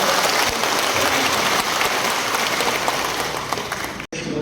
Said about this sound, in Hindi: Let's all clap and welcome her